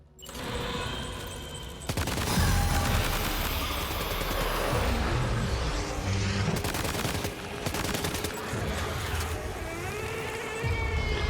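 Gunshots in the video game Death Stranding 2 come as rapid, dense bursts of fire. The volley runs almost continuously, loud and close, with sharper cracks standing out near the middle and toward the end.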